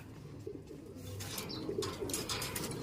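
Young racing pigeons coo in a loft, a steady low murmuring hum of several birds mixed with soft rustling and brief higher chirps, fairly close and continuous throughout.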